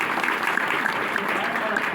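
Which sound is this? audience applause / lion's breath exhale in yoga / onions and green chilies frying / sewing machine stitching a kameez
audience applause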